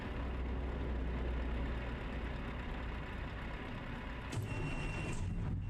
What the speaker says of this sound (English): Oh, I hear his engine.